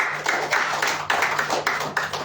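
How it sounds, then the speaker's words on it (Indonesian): A church congregation claps hands in worship, a steady rhythmic beat of claps repeating about every half second, close and clear with no talk. "Beri tepuk tangan yang meriah buat Tuhan."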